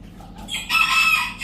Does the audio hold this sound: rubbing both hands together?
no